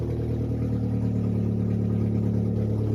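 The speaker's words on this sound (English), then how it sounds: "I'm gonna rev it up. Okay, it revs up, it has a good throttle response." A Saturn Vue with a 2.2 Ecotec engine, loud and running with a P0068 fault, drones at a steady, raised engine speed, a close, even hum with no talking.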